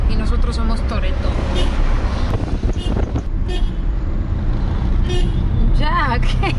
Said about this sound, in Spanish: Ya deja de pitarme